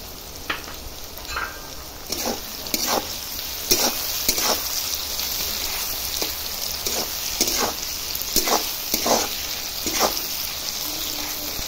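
Chopped onions with salt frying and being stirred in a pan, a steady close sizzle broken by repeated scraping stir strokes, with no voices.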